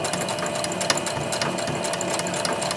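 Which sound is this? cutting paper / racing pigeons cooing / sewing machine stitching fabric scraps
sewing machine stitching fabric scraps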